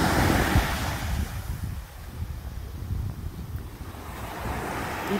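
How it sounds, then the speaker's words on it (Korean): Ocean waves roll in and wash along a shore in a steady, broad surf roar, with wind rumbling across the microphone throughout; no speech. "와, 파도가 밀려드는데."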